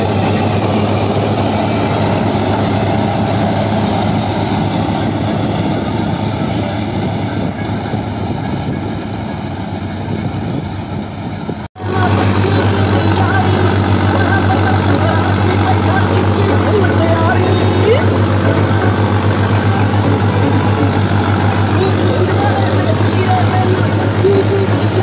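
Mahindra Arjun Novo tractor engine runs in fifth gear driving a reaper, a loud, constant droning hum with a brief cut midway, close and steady throughout.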